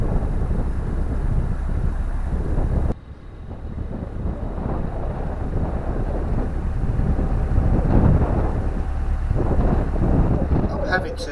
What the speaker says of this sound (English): the wind is blowing me hard from the side